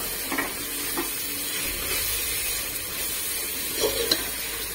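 Masala paste for biryani frying in a pan, a steady close sizzle and hiss with a few soft stirring scrapes near the start and end, no voices.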